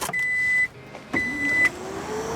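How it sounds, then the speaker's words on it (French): An electric tailgate on a 2020 Kia Sportage closes at the press of a button, with two bright electronic beeps separated by a pause and a quiet motor whir underneath, heard up close. "On peut fermer le haillon également avec un bouton ici"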